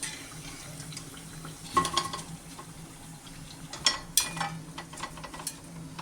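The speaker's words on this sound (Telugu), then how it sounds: "ఇలాగ మీడియం ఫ్లేమ్లో ఫ్రై అయ్యాక తీసేయాలి." Bakarwadi snacks deep-fry in oil over a medium flame. The oil gives a quiet, steady bubbling hiss, broken by a few louder clinks and scrapes of a slotted spoon.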